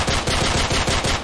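Rapid automatic gunfire in Left 4 Dead 2, a quick close burst of about half a dozen evenly spaced shots with no voices over it.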